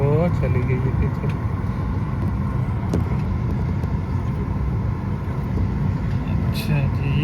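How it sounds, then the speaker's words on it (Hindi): A vehicle reverses on an airport apron near a waiting flight, its engine a low, steady rumble that runs throughout while someone talks over it. "हाँ रिवर्स कर रही है ये गाड़ी जी"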